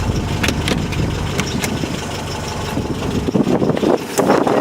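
A 1966 Volkswagen with a 1776cc engine and a four-speed runs in a steady, close, mid-pitched chugging idle, with a few sharp knocks and clunks near the end and no talking.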